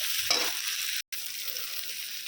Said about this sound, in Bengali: সবজিটা যেতে কাটিনি, হালকা ভাজা ভাজা হোক